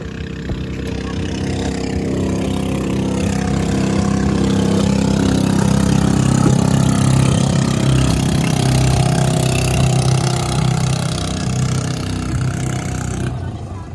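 Motorboat engines rumble steadily and loudly at idle before a fiesta boat race, a low continuous drone with a few overlapping motors, no speech.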